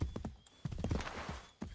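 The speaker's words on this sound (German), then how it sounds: "wir rufen erst unser Pferd" Horse in the Assassin's Creed 3 video game, heard as quick clip-clop hoof strikes in two bursts with a short whinny, fairly close and moderately loud.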